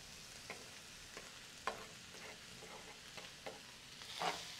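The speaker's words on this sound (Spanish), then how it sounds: "Ya que suavizó la cebolla, ahora le vamos a poner el tomate." Garlic, onion and tomato fry quietly in a pan, a faint steady sizzle broken by a few soft clicks and scrapes of a utensil, with no voices.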